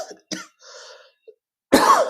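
A person coughs and clears their throat nearby in a few short, separate bursts, ending with one louder, harsher cough.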